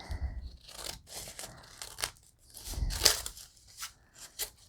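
Scissors snip through scraps of junk mail paper in several quick, close cuts with crisp rustling and tearing between them, irregular bursts spread across a few seconds.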